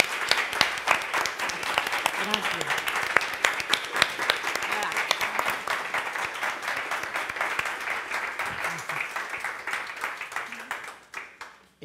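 An audience at the opening of an Ibero-American literature gathering applauds two departing speakers; steady crowd clapping with a brief spoken thanks over it, tapering off at the end.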